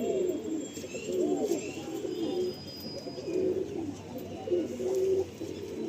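Madrasi pigeons coo in soft, repeated rolling phrases, several overlapping calls at moderate distance against a quiet, slightly hissy background.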